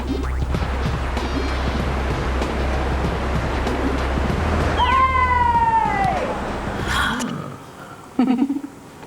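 Small ocean waves wash and break on a beach where a surfer practices, a constant loud rush of surf with a brief sliding, voice-like tone midway and a few sharp thumps near the end.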